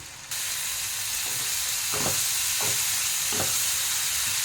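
Ginger sautéing in a pan for a vegetarian soybean curry gives a steady close sizzle and hiss throughout, with a few soft stirring scrapes rising over it.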